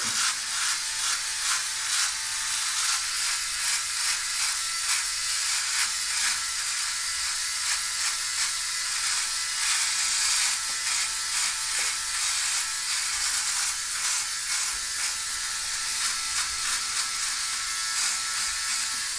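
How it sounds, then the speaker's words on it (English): Philips OneBlade electric shaver dry shaving around the chin, a steady close buzzing hiss that holds for the whole stretch with slight rhythmic flutter as the blade sweeps, and no voice. "I usually do a dry shave with it."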